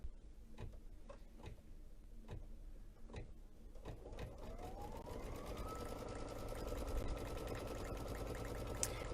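Embroidery machine stitching a layered cake design, giving a fast steady mechanical whir with regular ticking clunks that settles into a continuous hum, close and fairly quiet, with no talk.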